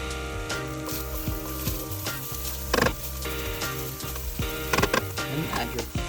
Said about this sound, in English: Cook the tomato paste.